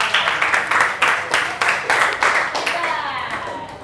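Classroom group clapping in a quick, regular rhythm, loud and close, about a dozen sharp claps before trailing off as a voice begins speaking near the end.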